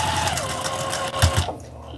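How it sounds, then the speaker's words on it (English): A Juki sewing machine stitches a quarter-inch seam in quilt fabric, a steady close whirring hum that stops abruptly near the end. "Sew in 1/4 inch all the way down."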